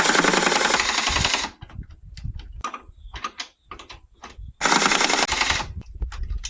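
Bursts of a rapid power tool driving the lawn tractor's two battery tray hold-down bolts, loud and close, two long whirring runs separated by quieter ratcheting clicks and handling noises.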